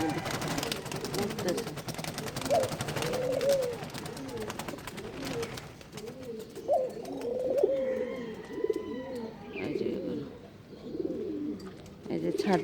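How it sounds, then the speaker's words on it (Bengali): Pigeons on a rooftop at dawn coo in low, throaty murmurs, repeated throughout, close by, with a few faint chirps over light background noise. "অনেক কবুতর আসছে এগুলো আশেপাশের"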